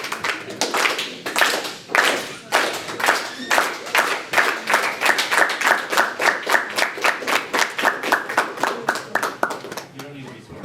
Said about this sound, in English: Do we still clap? Yeah, why not?